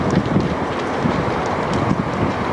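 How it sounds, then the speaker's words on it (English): Steady wind buffets the microphone at an outdoor aquatic center on the Gold Coast waterfront, a continuous low rumbling roar with gusty swells and no voices. "Wind's kicking up a little bit."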